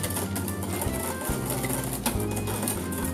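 An electric mixer whirs through crème brûlée mixture in a kitchen, a close mechanical buzz that cuts in and out in short bursts with changing pitch.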